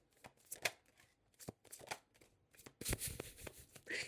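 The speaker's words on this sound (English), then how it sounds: "I'm just going to pull cards and trust that it'll be clarified" Tarot cards being shuffled and pulled from a deck, a run of close, crisp riffling flutters and soft slaps in short irregular bursts, growing busier and louder toward the end, with no talking.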